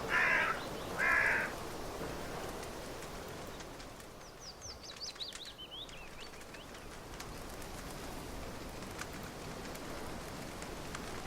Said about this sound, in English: A murder of crows is eating eagerly.